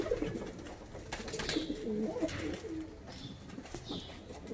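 Fancy white-eyed long-face domestic pigeons coo softly in a loft, with brief wing flaps and light rustling mixed in, fairly close and quiet with no talking.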